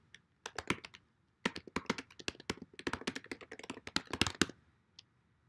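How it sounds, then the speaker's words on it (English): Someone types on a computer keyboard in quick irregular bursts of crisp, close key taps, pausing briefly between runs of keystrokes in an otherwise quiet room. "If I could type today"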